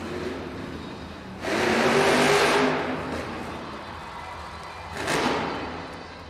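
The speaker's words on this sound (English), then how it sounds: "Backs it up, hits the throttle." El Toro Loco monster truck at a Monster Jam freestyle event in a Nashville arena backs up and hits the throttle, a loud roaring rev that swells and fades, then a second shorter burst, heard from a distance within the arena.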